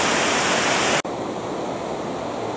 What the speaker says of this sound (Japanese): 川の流れがすごいです。